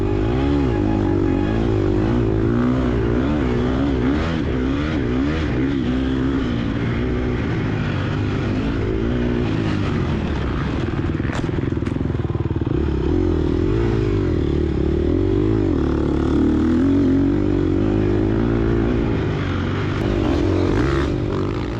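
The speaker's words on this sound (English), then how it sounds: "I twist the throttle more in an attempt to keep my reputation intact" Dirt bike engine in the racing game TORCS, cross-country sand race, buzzing loudly and continuously as the throttle is twisted, pitch wavering up and down with revving, up front with no talk.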